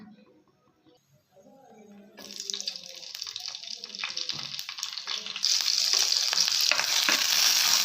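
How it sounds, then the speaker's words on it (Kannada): Cut green chillies drop into about three or four spoons of hot oil in a pan, and a close, steady frying hiss grows louder in two sudden steps before holding at a dense sizzle. "ಇವಾಗ ಕಟ್ ಮಾಡಿಟ್ಕೊಂಡಿರುವ ಹಸಿಮೆಣಸಿನ್ಕಾಯಿ ಹಾಕ್ಕೊಳ್ಳೋಣ."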